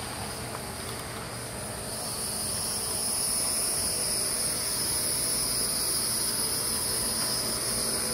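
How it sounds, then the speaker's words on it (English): Loud, continuous insect chirring of crickets, a dense steady high-pitched drone that swells slightly and holds throughout with no voices. "Those bugs are so loud. Oh, the crickets?"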